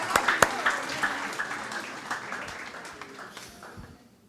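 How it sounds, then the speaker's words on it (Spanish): Audience applause following a live Colombian music and dance performance with a drummer, starting with a few sharp claps and settling into steady clapping that slowly fades, with voices mixed in. "Un otro fuerte aplauso para Freddy Montoya y su grupo de baile"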